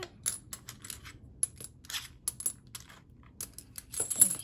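Red metal planner discs clinking and clicking together as they are handled, a run of short, bright, close metallic taps in irregular clusters, with a louder burst near the end.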